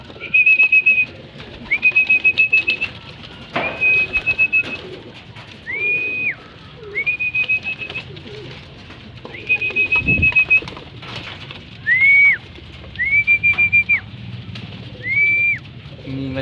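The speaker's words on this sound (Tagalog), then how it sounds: "So yung nagbabaan na ating mga ibon." Pigeons land at their loft, giving a series of clear, repeated coos and whistling calls in short bursts, close and fairly loud with little else around.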